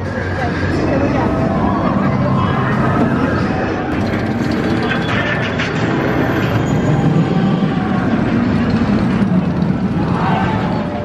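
Smiler roller coaster at Alton Towers in full ride, a continuous loud rumble and roar of the train on track with wind noise, rattling, and faint shouts from riders throughout.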